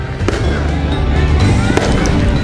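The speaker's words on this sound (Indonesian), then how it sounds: "warga Cali di Kolombia meluncurkan kembang api" Fireworks crackle and bang at a New Year's Eve celebration in Cali, Colombia, with dense, overlapping pops and sharp reports over a loud, rumbling crowd background.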